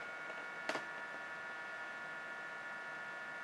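A Humpun dehumidifier runs in sleep mode with a steady, low, fan-like whir and a faint hum. One brief soft tap sounds near the start.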